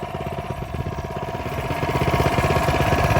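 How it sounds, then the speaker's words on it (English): A Coleman mini bike's small engine idles while rolling down a hill, a close, steady low putter with a fast regular rhythm that grows slightly louder toward the end, with no voices. "So what I'm doing right now is idling down this hill."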